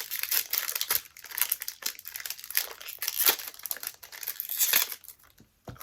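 A Pokémon booster pack wrapper is torn open and crinkled up close, with repeated sharp crackling and tearing bursts of plastic foil and a brief pause near the end.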